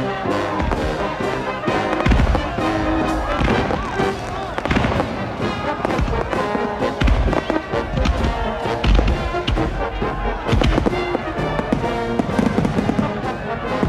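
Fireworks bursting at a town band concert, a dense, continuous barrage of loud booms and crackles that fills the whole stretch with little pause.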